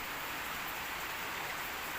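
Steady rain falls outdoors in an even, dense hiss, continuous and moderately loud with no voices.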